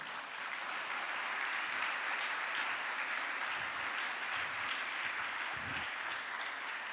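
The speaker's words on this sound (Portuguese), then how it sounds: "Então dá uma salva de palmas para o Senhor." Church congregation applauding the Lord during a service, a steady, fairly faint wash of clapping that holds evenly throughout without speech.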